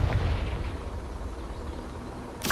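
In the video game Hogwarts Legacy, the Confringo spell detonates as a booming fiery explosion followed by a rumbling roar that fades over a couple of seconds, with a fresh burst at the end.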